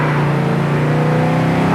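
A 1966 Chevelle SS clone, a classic V8 muscle car, pulls hard through its gears with a steady, loud engine roar throughout.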